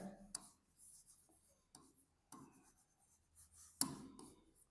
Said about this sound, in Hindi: ये लिखते हैं